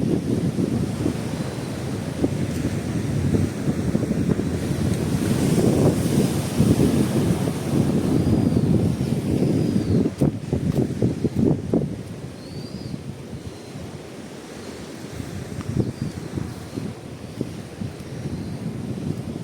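Strong sea wind at an orange farm in Japan roars and buffets the microphone continuously, with surf rumbling underneath and no voices.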